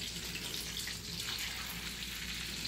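Faint, steady sizzling and crackling of salmon searing in hot butter, a continuous hiss with no voices.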